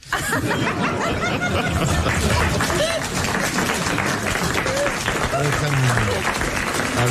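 A French television studio audience applauds without a break, the clapping mixed with chuckles, laughter and some voices throughout.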